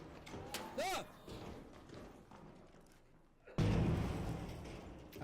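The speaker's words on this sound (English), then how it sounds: "Throwing a nade in there." A thrown grenade in Arc Raiders bursts with a sudden loud, heavy blast that rumbles on for over a second, after a stretch of quieter talk and game noise.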